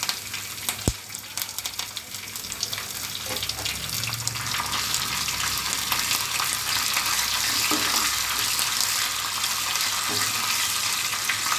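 Cumin and mustard seeds sizzle and crackle in hot oil for a sambar tempering, a steady close frying hiss with scattered pops after a sharp clink near the start.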